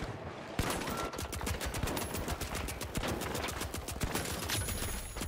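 Rapid, steady automatic gunfire in the video game The Finals, dense, loud bursts of shots crackling continuously for several seconds, close and sharp.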